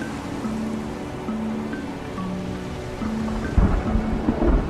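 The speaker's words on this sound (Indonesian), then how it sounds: "Seketika cuaca berubah menjadi gelap, hujan turun dengan lebatnya. Terlihat sambaran petir di berbagai penjuru." A thunderstorm over the sea near a ship, with heavy rain hissing steadily and a sharp crack of thunder near the end, dense and loud with no voices.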